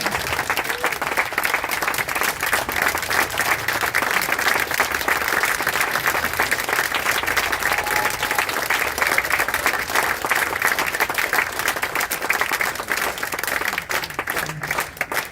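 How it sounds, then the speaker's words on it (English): A life celebration audience gives a long, sustained round of applause and a standing ovation, dense, steady clapping that holds strong throughout. "Let's give George a last round of applause and a standing ovation."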